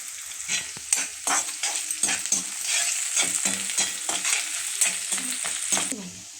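Onions, green chillies and curry leaves sizzling hard in a hot pan, a loud bright frying hiss broken by repeated stirring scrapes and clatters, close up and without speech.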